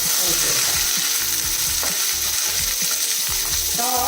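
Four sliced onions sizzle and crackle steadily in hot oil in a pan, close and loud throughout, with occasional stirring scrapes and no talking.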